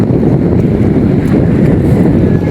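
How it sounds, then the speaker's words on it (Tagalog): Strong wind buffets the microphone in a loud, continuous roar with a gusty low rumble outdoors at a scenic lookout. No one speaks over it. "Ang hangin. Sarap ng hangin."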